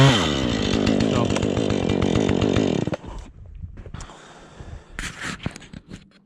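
Chainsaw cutting into a red pine tree during winch logging with a Polaris Sportsman, loud close engine roar for about three seconds, then the saw cuts off, leaving quiet knocks and rustling as the tree shifts.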